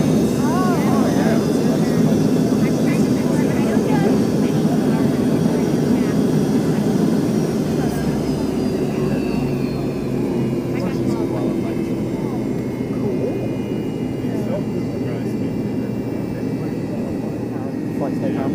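An American Airlines MD-80 (Super 80) jet on its final flight, AA 80, roars through its takeoff run, a loud sustained engine rumble and whine that slowly shifts in pitch, heard from inside the cabin with voices talking over it.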